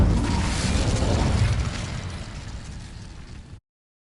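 Incendio fire spell igniting dry vines in Hogwarts Legacy, a loud burst of roaring flame that swells at once and fades over a few seconds before cutting to silence.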